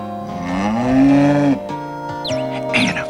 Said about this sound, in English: That's Clarice the cow.